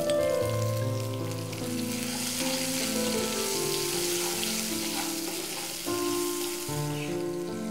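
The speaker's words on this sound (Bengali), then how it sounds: "আলু হালকা ভাজা হয়েছে," Potato pieces frying with a little salt in a pan, a continuous close sizzle mixed with a steady hum and tonal background music, no speech.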